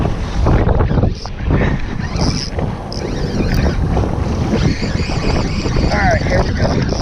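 A jet ski speeds across open water off Wrightsville Beach, its steady engine roar and hull slap mixed with heavy wind buffeting the microphone, loud and close throughout.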